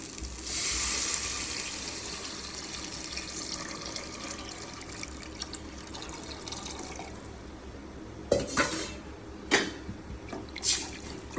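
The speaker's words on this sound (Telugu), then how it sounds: "ఇప్పుడు ఇది అయిపోయిందమ్మా, ఇగో చింతపండు వాటర్ వేస్తున్నా." Tamarind water is poured into a pot of pepper rasam, giving a soft, steady liquid wash followed by a few splashy drips and spatters near the end, faint and without speech.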